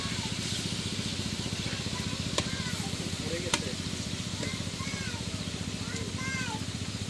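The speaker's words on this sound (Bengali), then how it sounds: "এই মাছটারে একটা ভাজা দিতেছে তেলে রেখে।" Fish fries in hot oil with a continuous, even sizzling hiss. A low, steady engine-like hum runs beneath it, and a few faint chirps come through.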